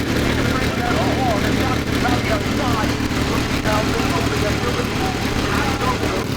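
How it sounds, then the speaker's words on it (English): A Porsche 962C with its twin-turbo flat-six racing engine running at a vintage race, a dense continuous engine roar, loud and steady, with faint pitch sweeps above it. "take in some noise from its incredible twin-turbo flat-six engine"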